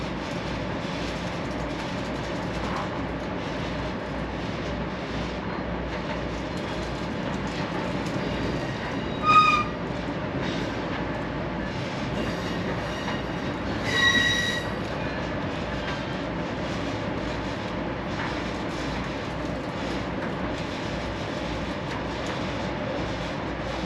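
An Amtrak passenger train rolls steadily along the rails with a continuous rumble, a couple of brief metallic squeals and clanks rising above the constant rolling noise.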